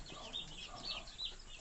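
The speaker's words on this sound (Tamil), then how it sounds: "கோழி குஞ்சுங்களும் அப்படியே வந்து கொஞ்சம் கொஞ்சமாக குடிக்குதுங்க." Native chicks in a brooder cage, gathered at a drinker, keep up faint, steady high-pitched cheeping with overlapping peeps and no talk.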